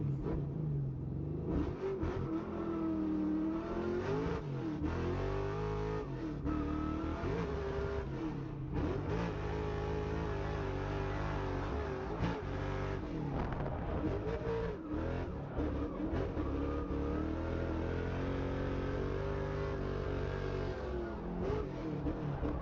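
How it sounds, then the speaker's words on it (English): Car engine revs hard and shifts repeatedly during a race, the driver in an unfamiliar car; the engine note climbs and drops continuously for over twenty seconds, heard from inside the cabin at moderate loudness. "I'm driving a car I've never driven before."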